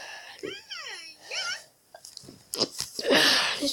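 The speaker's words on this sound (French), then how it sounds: "excusez-moi, j'ai éternué." A single sneeze bursts out near the end, just after a rising and falling whistle-like tone and some soft breathing noises, close and moderately loud.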